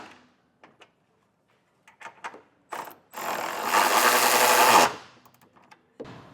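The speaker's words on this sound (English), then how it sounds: "Now we can tighten and torque everything down. I'm using a 19mm socket." A tool drives hitch bolts with a 19mm socket while a Curt trailer hitch receiver is fitted to a 2025 Mazda CX-50. A few short clicks and clanks come first, then one loud rattling burst of about two seconds, up close, followed by a final clack.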